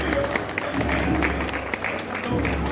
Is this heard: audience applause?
yes